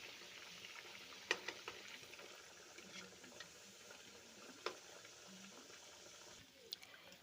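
Biscuits frying in a pan of hot oil while they turn deep golden, a steady low sizzle with brief sharper crackles and pops rising above it, close and fairly quiet throughout.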